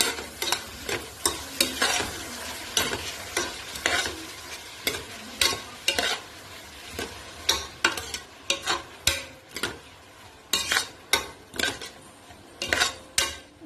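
Onions with tomato, ginger-garlic paste and salt are stirred in a pan, rhythmic, repeated scraping strokes of a spoon against metal over a soft sizzle, close and fairly loud.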